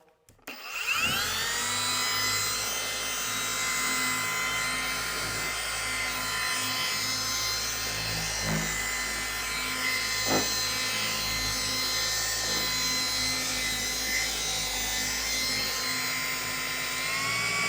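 A cordless 20-volt polisher whines steadily at a mid speed setting while correcting car paint on a reconstructed salvage vehicle, close and continuous after a brief spin-up, with faint pad contact noises.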